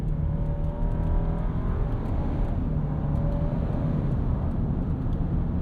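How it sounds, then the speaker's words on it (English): Nissan Armada engine in a 2025 model pulling through its 9-speed automatic in manual mode, a steady, fairly subdued cabin drone with rising and falling pitch as gears change, heard from inside. "Pretty quick gear changes from the 9-speed."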